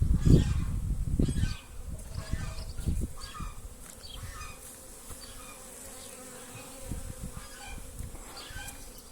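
Honeybees buzz around beehive splits in a spring apiary, a dense droning hum from many insects, loudest and closest at the start, then settling into a softer steady buzz.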